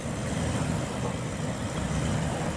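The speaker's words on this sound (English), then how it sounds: "but just give it some revs now." A Toyota LandCruiser 79/76 series off-road engine runs steadily with a deep, continuous rumble, close by and fairly loud, holding a constant drone without clear rises in pitch.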